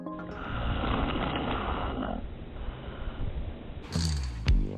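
A person snoring in sleep, a rough, rattling breath that rumbles for a couple of seconds before fading into quieter breathing, followed by a short harsh snort near the end.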